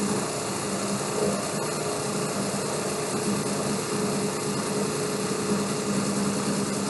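A synchronous electric motor that has just pulled into synchronization runs steadily at 1800 RPM, giving off a constant, even hum with a faint vibrating buzz and no talking.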